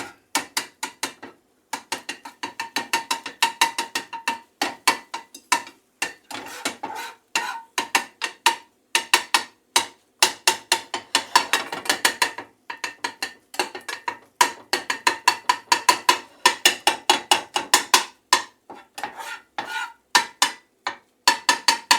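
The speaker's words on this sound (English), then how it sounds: "Mix these eggs up." Eggs are beaten in a bowl for a quick fried rice, heard as rapid rhythmic clicking strokes in repeated bursts with short pauses, close and alone with no talking.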